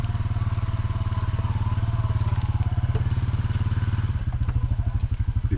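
A Honda off-road vehicle idles and chugs on a trail with a steady low, pulsing engine rumble, close and loud throughout, its firing rhythm quickening slightly near the end.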